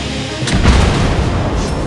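A single heavy boom from a Tier 10 HMS Defence cruiser's guns in World of Warships Blitz, loud and close, with a rumbling tail that fills the short moment.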